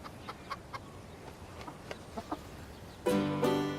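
Chickens from a family's first flock on a farm, a run of soft, scattered clucks at moderate distance, then a louder sustained call near the end.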